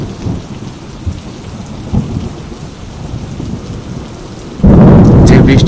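Heavy rain pours down steadily in a dense, hissing wash on a rainy, muddy day, and a loud, close roll of thunder breaks in near the end and swells over the downpour.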